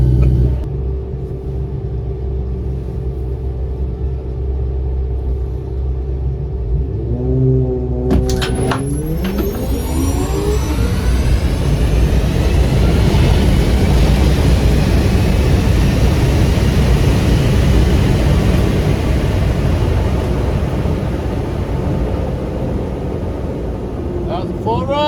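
Tesla Plaid launching down a drag strip on a full run: a steady low idle rumble, then a sharp rising whine as it takes off, followed by a sustained loud roar of wind and tyre noise to the end.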